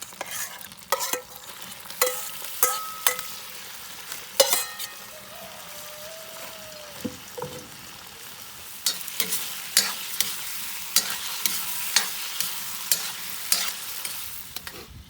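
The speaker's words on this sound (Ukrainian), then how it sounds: "Поки м'ясо і копчені баки смажаться" Meat and smoked sausages fry in a pan with a steady sizzling hiss while a utensil scrapes and taps against the pan in repeated stirring strokes.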